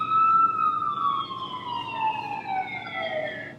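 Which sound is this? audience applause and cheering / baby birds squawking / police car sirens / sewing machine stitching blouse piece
police car sirens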